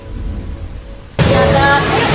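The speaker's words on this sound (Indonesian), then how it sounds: "saat siang hari, hujan tiba-tiba turun" Rain suddenly starts pouring down in the middle of the day at a village, a steady broadband hiss that jumps abruptly from quiet background to loud, heavy downpour partway through.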